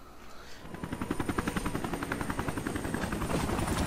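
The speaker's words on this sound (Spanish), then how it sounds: "Ahí se subieron a un helicóptero." Helicopter in the video game Resident Evil Revelations, its rotor chopping in a steady rapid rhythm that grows louder after the first second and keeps beating with a turbine whine, no talking.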